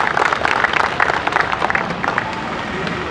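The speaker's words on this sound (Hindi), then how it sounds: "चाहूंगा उनके सम्मान के लिए आप लोग जोरदार तालियों से अभिनंदन करें" Loud audience applause with crowd noise, a dense steady clatter of many hands clapping throughout, at a Holi comedy event.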